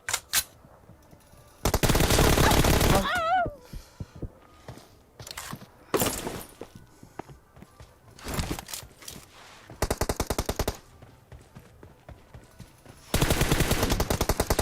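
Gunfire from the video game PUBG comes in loud automatic bursts separated by quieter gaps, with a few single shots and some clicking and movement between volleys.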